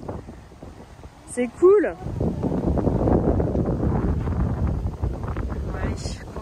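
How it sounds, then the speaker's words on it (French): Blustery wind buffets the microphone in a continuous low roar on a hillside path in Gyeongju, South Korea, with a brief voice speaking near the start. "il y a beaucoup de vent"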